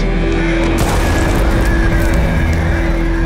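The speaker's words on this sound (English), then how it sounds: "A few seconds ago, we just had repeated explosions in the street below me." Loud rumbling blasts and crashing debris from repeated explosions in a street, heard from nearby with a sustained roar, no talking.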